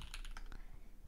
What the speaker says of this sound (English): Alright, you can hear my keyboard.